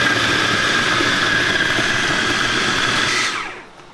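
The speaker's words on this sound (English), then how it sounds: "We're just gonna grind it all up." A food processor grinds onion, celery and carrots for lumpia filling, a loud continuous close whirring motor that stops and winds down near the end.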